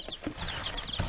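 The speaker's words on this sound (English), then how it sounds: "Got a bunch of chickens, 8 little chickens in here" Newly arrived baby chicks peep and cheep in a homestead brooder box shared with ducklings, a brief burst of several close, high little calls.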